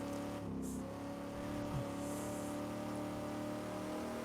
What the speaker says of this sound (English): Listen to the fantastic V8.